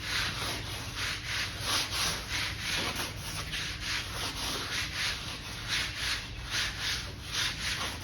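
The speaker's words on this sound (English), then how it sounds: "I'm gonna kiss it with some sandpaper and see what it does." Sandpaper is rubbed lightly over a slightly damp drywall transition, making a rhythmic, close scratching swish of steady back-and-forth strokes, about two per second.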